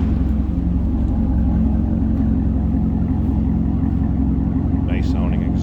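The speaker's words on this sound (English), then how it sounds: "Nice sounding exhaust." Exhaust of a 2007 Chevrolet Corvette Z51 coupe running at idle, a steady deep burbling rumble heard close from the rear, continuous throughout.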